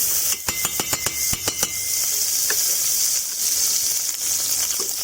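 Homemade country butter sizzles in a frying pan before rice is added: a steady, bright hiss holds throughout, with a quick run of spoon-on-pan clinks and taps in the first second or so.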